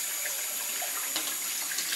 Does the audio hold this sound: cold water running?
yes